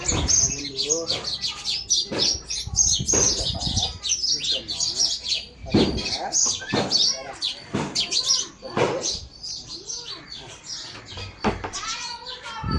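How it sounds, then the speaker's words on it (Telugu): Morning birds chirping and calling near a house surrounded by trees, a dense stream of repeated bright tweets, with people talking faintly in the background. "పిట్టలు చూసారు కదా ఎలా అరుస్తున్నాయో"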